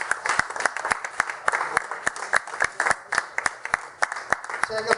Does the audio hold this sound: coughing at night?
no